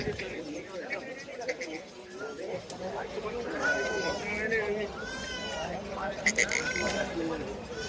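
Several goats bleat repeatedly at a livestock market in Chalisgaon, some close and some farther off, over the chatter of a crowd.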